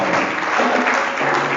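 A church congregation applauding in acclaim of the Holy Spirit, a loud dense burst of clapping and cheering that fills the room, then cuts off abruptly.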